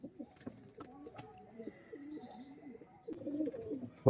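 Andhra racing pigeons coo in soft, low, rolling calls, several in a row near the microphone, with faint chirps and a light background hum and no clear talking.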